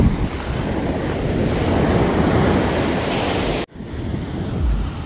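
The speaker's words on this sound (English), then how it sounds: "I made it, I'm in the ocean." Ocean surf washes continuously at a beach, mixed with heavy wind buffeting the microphone, loud and close, with a brief dropout near the end and no talking.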